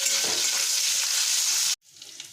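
Potatoes dropped into hot oil with bay leaves sizzle in a loud, dense hiss close by, which stops abruptly and leaves only faint crackling.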